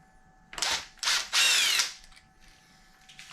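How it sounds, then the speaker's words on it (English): An impact driver drives screws into motocross grips, three short close whirring bursts, the last longest with rising pitch, separated by quiet pauses; no talking. "I'm going to put an impact driver on it."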